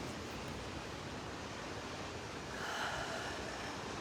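Ocean waves at Cabo, Mexico wash in a dense, steady roar of surf that swells slightly louder toward the end, with no voices.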